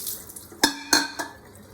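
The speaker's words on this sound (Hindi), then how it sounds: "और फिर इसको थोड़ा आरओ वाले पानी से वॉश कर रही हूँ मैं।" Giloy leaves are rinsed with RO water in a kitchen vessel, giving a brief splash followed by two or three quick clinks and clatters of metal, close and fairly loud.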